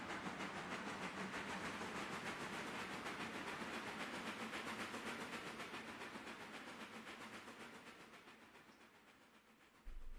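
A Central Railroad of New Jersey 769 camelback steam locomotive runs in the Railroader simulation. A steady, rhythmic chuffing hiss with a rolling rumble gradually fades over about ten seconds, then a brief thump sounds at the end.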